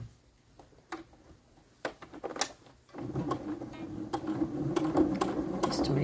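A sewing machine stitches fabric for a child's dress, starting with a few scattered clicks and handling noises. It then settles into a steady, close whirring hum that runs continuously for the last few seconds.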